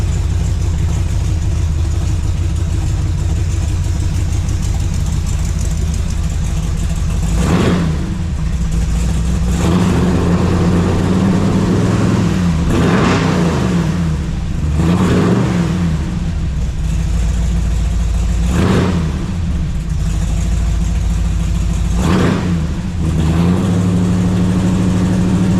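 A race truck fitted with new 3-inch Flowmonster mufflers that exit out the sides idles with a deep, loud, close rumble. About five sharp throttle blips swell the sound and then fall back to idle.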